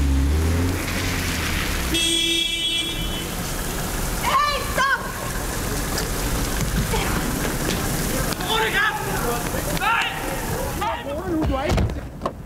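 Steady rain falls through a night-time film shoot, a constant wash of hiss under the scene, with people speaking over it and other brief noises.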